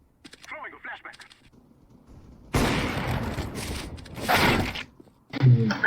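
A flashbang grenade goes off in CS:GO, a sharp burst of noise followed by a ringing blast and crackling, loud and close, with faint in-game chatter before it.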